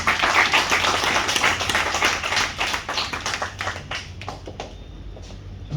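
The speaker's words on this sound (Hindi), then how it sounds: "तो ये युवा पत्रकार की टीम के लिए एक बार जोरदार तालियां" An audience at a foundation day ceremony of the Sainik Seva Parishad in Delhi claps loudly and steadily for several seconds, the dense applause easing slightly toward the end.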